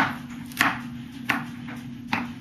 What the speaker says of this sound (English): Cut it down like that, and then you want to mince this as well.